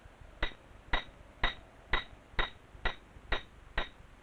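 Steel pitons hammered into rock cracks by a lead climber in Patagonia, heard as sharp metallic clinks struck in an even, regular rhythm about twice a second, moderately distant and clean with no talk.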